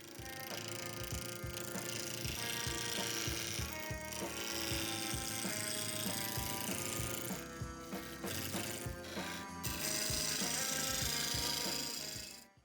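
A wooden handle for a rotary sander turns on a lathe, a steady close motor hum with rhythmic chattering and scraping from the cutting tool running throughout.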